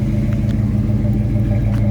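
A 1951 Chevrolet 3100 hotrod pickup idles steadily through its Flowmaster dual exhaust, a loud, continuous low rumble with an even, throbbing pulse close to the microphone.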